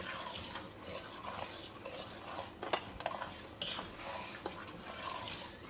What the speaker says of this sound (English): now I'm just going to stir this till it returns to a boil